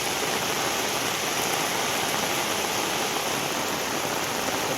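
Heavy rain pours down in Kudal in a constant, dense hiss that stays evenly loud and unbroken throughout, with no voices.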